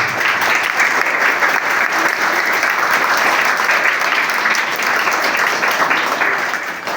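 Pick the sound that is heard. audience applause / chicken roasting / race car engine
audience applause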